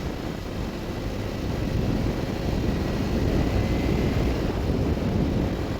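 A 2010 BMW R1200-RT motorcycle rides in first gear while still cold, throttled gently. Its engine drone blends with heavy, steady wind rush that swells slightly after two seconds and continues unbroken, with no talking.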